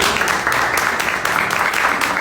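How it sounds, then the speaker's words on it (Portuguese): A church congregation applauding during a sermon on John 1, a dense steady wash of many hands clapping together, loud and close, running unbroken with no talk over it. "Será que você pode aplaudir a Jesus por isso?"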